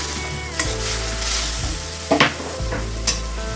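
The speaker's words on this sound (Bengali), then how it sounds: "মশলাগুলোকে আমি ভালো করে ভেজে নেব" Spice paste with tomato frying in a pan for Bengali aloo dum, with a loud steady sizzle close by and several brief stirring scrapes of a spatula.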